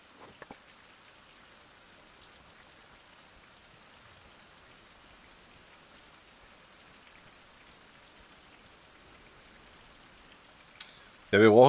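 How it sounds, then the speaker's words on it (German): Steady, soft rain falling on surfaces in a survival video game, a continuous hiss with occasional drips, ending in a brief burst of talk. "Mit dem Regen höre ich jetzt aber auch gar nichts hier"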